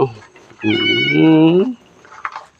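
A temple cat at Wat Pong Chai in Chae Hom, Lampang, gives one long, loud, drawn-out meow close by, with faint background noise before and after.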